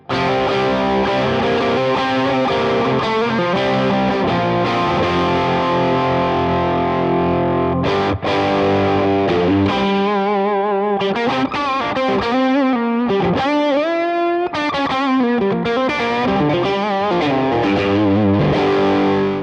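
A heavily distorted electric guitar through a Toneking Imperial MKII Synergy amp module plays loud, sustained chords and bending notes, with a couple of brief dropouts in the thick, saturated tone.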